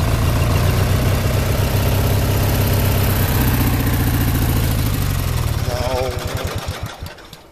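A freshly repaired small engine runs steadily with a loud, rough putter up close, then sputters and dies away over the last couple of seconds.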